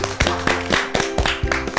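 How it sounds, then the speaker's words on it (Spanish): A studio audience on the Spanish-language show Cataplum claps to welcome a guest, sharp rhythmic hand claps landing in a steady beat over background music. "Recibámosla con un aplauso. Un fuerte aplauso."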